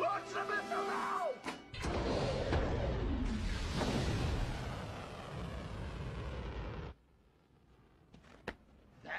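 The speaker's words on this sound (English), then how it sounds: "Launch the missile now!" A missile launched in an animated film, heard as a sudden loud roaring blast with crashing rumble that holds for several seconds and then cuts off abruptly, leaving quiet with faint sounds.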